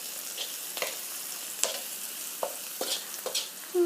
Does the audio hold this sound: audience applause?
no